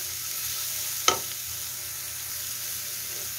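Fish frying in a pan gives a steady low sizzle, broken by a single sharp clatter as it is flipped, then the frying carries on alone.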